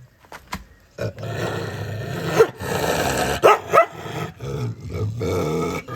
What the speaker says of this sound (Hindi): देखो हमारे से ही गुस्सा करेगा, हमारा कुत्ता है ना।